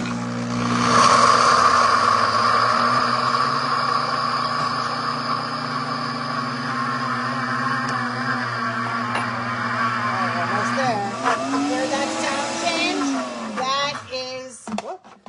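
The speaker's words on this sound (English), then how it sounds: "So I'm going to hit go, and we can watch it go from peanuts to peanut butter" A blender grinds peanuts into peanut butter with a steady, droning motor whine that holds for most of the stretch before cutting out, with a person talking near the end.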